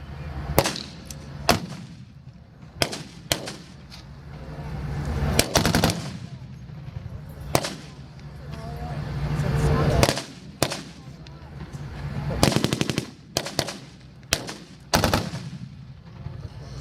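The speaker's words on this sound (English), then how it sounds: "The artillery's going to happen." Staged artillery and machine gun fire at a Vietnam War tank reenactment: sharp, loud bangs and short bursts sound at irregular intervals over a low background rumble, with voices in between.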